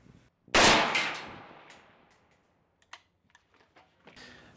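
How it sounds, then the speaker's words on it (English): A rifle fired standing at full power at a 100-yard steel target gives one loud, sharp crack with a long decaying tail, then a few faint metallic clicks and light handling noises. "I'm shooting 100-yard steel, standing, of course, and I've got it on full power, just playing around."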